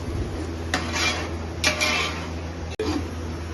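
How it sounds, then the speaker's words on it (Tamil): Onions being sautéed in oil for mutton biryani, a metal spoon scraping and clinking against the pot in a few slow strokes over a low, steady frying hiss. "எண்ணெயில ஃபுல்லா வெங்காயம் வந்து வதக்கணும்"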